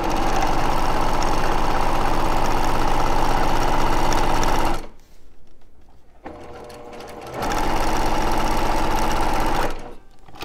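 A sewing machine runs steadily stitching quilt fabric with a quarter-inch seam, loud and close, pausing to near silence midway before whirring again and stopping briefly near the end.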